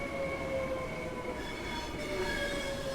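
Class 465/9 Networker electric train in Train Sim World 2, Southeastern High Speed route, heard close with a steady rolling rumble and sustained high wheel squeal and motor whine, no voices over it.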